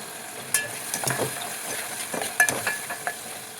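Tomato and spinach paste frying in a pan, giving a soft continuous sizzle broken by several sharper stirring scrapes and clicks, close and alone.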